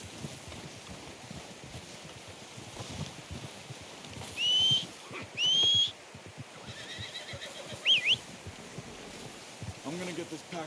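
A horse in Red Dead Redemption 2 gives two short high whinnies close together and then a third shortly after, over a quiet rustling outdoor game ambience.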